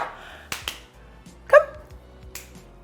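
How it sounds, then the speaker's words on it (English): A pet dog gives a single short bark indoors, set among a few sharp clicks and taps in an otherwise quiet room. "my dog, Luna, come."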